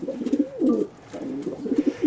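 Racing pigeons, including older cock birds, coo in a loft in low, rolling bursts close by, pausing briefly midway before the throaty cooing resumes.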